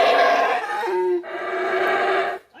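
Howler monkeys roar at Community Baboon Sanctuary in Belize, a loud, sustained tonal howl with a short dip near the middle before swelling again, then cutting off near the end.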